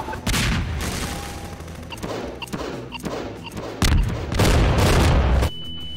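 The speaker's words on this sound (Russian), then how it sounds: "Нет, это красивые маленькие взрывчики будут." Several small explosions go off in the sandbox game Garry's Mod, each a loud, broadband boom with a rumbling tail, set against a continuous background of gameplay noise.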